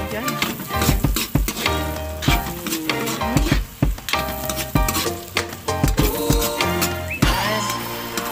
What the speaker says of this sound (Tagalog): Nilagay na natin ang ating sibuyas.